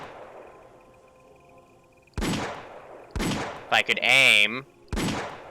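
Several sharp gunshots ring out at soldiers in Arma 3, loud separate cracks spaced a second or so apart with a burst of rapid shots in the middle, over quiet ambience and a brief spoken voice.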